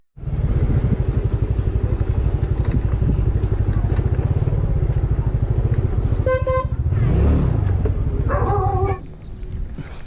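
A Yamaha Mio Sporty scooter that lacks pulling power is ridden with a loud, steady engine drone up close. Horn toots cut through before the engine noise drops off near the end.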